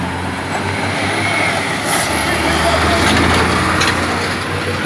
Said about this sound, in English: Dust again as the truck passes by.